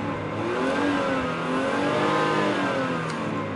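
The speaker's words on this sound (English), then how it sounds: "This is 6-cylinder, 3-liter Mercedes engine, what rotates really nicely." A Mercedes 3-liter six-cylinder engine revs smoothly near maximum speed, a sustained, rising and falling mechanical whine heard up close and alone.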